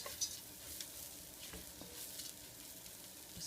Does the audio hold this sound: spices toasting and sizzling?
yes